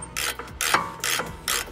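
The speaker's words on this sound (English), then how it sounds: "we're gonna tighten this one up" A ratchet tightens an 18 mm caliper bolt on the front brake of a BMW F30, giving four short bursts of close, crisp clicking with brief pauses between them.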